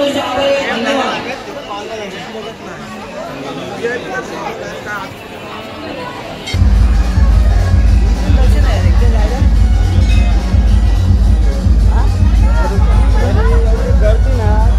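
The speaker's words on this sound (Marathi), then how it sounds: "आता भरपूर गर्दी असते" Dense crowd hubbub and chatter at a night temple festival for the goddess Kelamba Devi at Kharoshi, loud throughout, with a heavy low rumble of music or drums joining abruptly partway and continuing under the babble.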